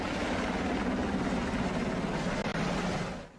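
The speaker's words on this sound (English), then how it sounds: "A plane and helicopters circle overhead as militants dot the hillside" Helicopters and a plane circle overhead above a hillside in Afghanistan, a steady droning rotor and engine rumble that holds evenly for about three seconds before fading slightly.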